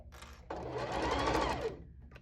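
A sewing machine stitches a pillowcase: a brief buzz of needle strokes, then a steady, close whirring run of about a second before it stops.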